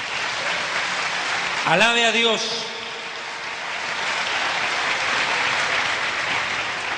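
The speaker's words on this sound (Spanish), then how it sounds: "un fuerte aplauso al Señor" A church congregation breaks into steady, full applause that continues throughout, while a voice briefly speaks over it.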